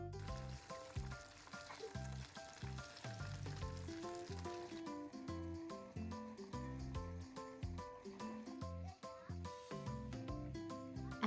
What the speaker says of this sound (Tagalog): ituin na natin ang karage